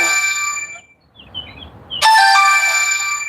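A mobile phone rings with an incoming call beside a roadside, loud and close. Bright electronic chime tones sound alone, pause briefly, then start again even louder.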